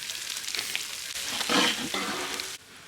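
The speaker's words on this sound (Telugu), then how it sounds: "మనం వేసుకున్న మసాలా బాగానే ఫ్రై అయిపోయింది. దాంట్లోకి పసుపు, కారం, పెట్టుకున్న మసాలాను కూడా వేసుకుందాం." Masala with turmeric and chili powder sizzles and fries in a pan for egg biryani, a steady crackling hiss that swells briefly midway and drops away near the end.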